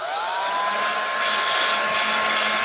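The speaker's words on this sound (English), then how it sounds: "So let's just give this a little bit of a blast dry." A hair dryer blasts steadily on a freshly painted drinks tray, a loud continuous whooshing hum with a faint whine that holds at constant strength throughout, with no talking.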